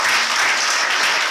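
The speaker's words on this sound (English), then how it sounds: "Can we give a hand of applause" An audience applauds at an International Women's Day celebration panel: loud, dense, continuous clapping from many people, close and even throughout, with no voices over it.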